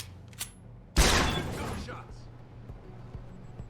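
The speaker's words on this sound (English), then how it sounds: "now I've fired off a shot and jumped out a window" A single gunshot rings out in the video game Deus Ex: Human Revolution, a sharp sudden burst that decays over about a second above a faint low hum.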